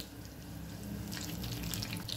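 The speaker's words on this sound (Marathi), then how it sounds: "याच्यामध्ये 1 चमचा पाणी टाकते।" A spoonful of water splashes and trickles into a pan of bottle gourd dhokla batter, a short liquid pour with a soft hiss rising toward the end, close by and fairly quiet.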